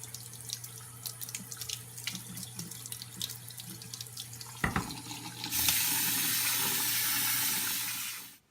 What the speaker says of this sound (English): You can rinse your rice by putting it in a strainer with a cloth over it so the rice gets clean